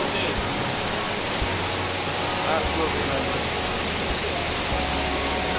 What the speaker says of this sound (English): Got a waterfall there